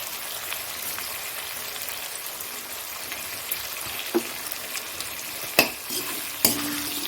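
Sliced onions frying in a pan with salt and a little sugar: a continuous close sizzle while they are stirred, broken by a few sharp taps of a utensil against the pan near the end.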